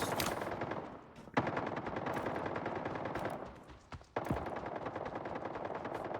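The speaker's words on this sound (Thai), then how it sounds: "ดูเสียงปืน ดูเสียงปืน" Bursts of rapid automatic gunfire in the shooter video game Fate Trigger, sustained chattering volleys broken by short pauses and sharp single shots, loud and continuous with no talk over it.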